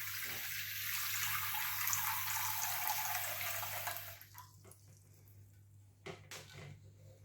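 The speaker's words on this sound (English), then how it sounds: "so fill it with water." Water from a tap rushes steadily into a container for about four seconds, then stops, leaving a few drips and small knocks; no voices are heard.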